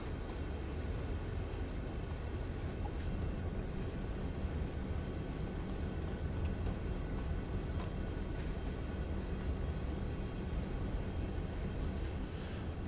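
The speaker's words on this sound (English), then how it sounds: "there's a real train going through my yard again" Simulated train rolling through a yard in Train Sim World 2, a steady continuous low rumble of wheels and cars that stays level and close throughout, with no voices.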